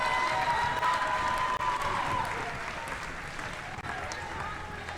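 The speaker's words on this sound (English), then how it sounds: "Give a round of applause for Jolie Orchard." Applause fills a large venue for a finalist at a senior wool handling final, steady sustained clapping from a big crowd with an announcer's voice carrying over it.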